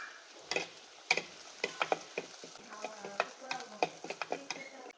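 Onions with crushed, skin-on garlic cloves sauté in a pan, a soft sizzle broken by frequent light spatula taps and scrapes in an uneven rhythm.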